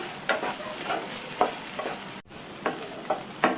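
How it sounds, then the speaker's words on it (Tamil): Soaked sago stirred in a pan over a medium flame, a spoon scraping in slow, regular strokes with a soft sizzle underneath, close and moderately loud, with no voices. "மீடியம் ஃப்ளேம்லேயே வச்சு ஒரு 2 நிமிஷத்துக்கு நல்லா இந்த மாதிரி கலந்து கொடுக்கணும்"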